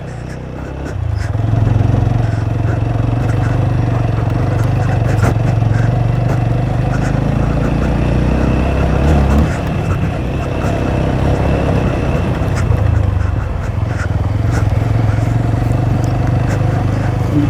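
A motorcycle rides slowly over a rough, bumpy road from Deusa to Mukli, its engine a steady, close, low drone that runs through the whole stretch without pause.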